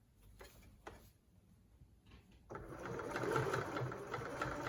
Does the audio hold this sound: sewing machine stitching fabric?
yes